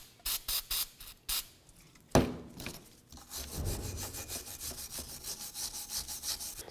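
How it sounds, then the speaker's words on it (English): Brake parts cleaner sprayed in several short bursts onto the front wheel hub area of a 2005-2016 Toyota RAV4, followed by a sharp knock and continuous scrubbing with a wire brush, close and fairly loud. "I'm going to spray it down with some brake parts cleaner and then get it with a wire brush"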